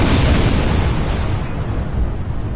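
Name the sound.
explosions in the video game Star Trek Online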